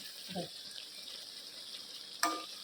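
Chillies sizzle in ghee in a pan with a faint, steady hiss, broken by a soft knock early on and a sharper clatter near the end.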